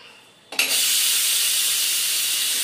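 Steam bursts out of a pressure cooker of khichdi when it is opened, a sudden loud hiss that starts after a short quiet moment and keeps going steadily up close.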